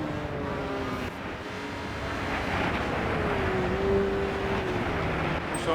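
Race car engine from the video game Gran Turismo 5 on a snowy track, a steady droning roar with a rising whine through the middle, continuous and fairly loud with no voices.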